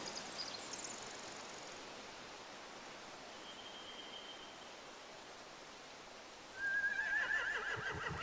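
A horse whinnies faintly in The Walking Dead video game, then a louder neigh rises near the end over a steady rushing, water-like background.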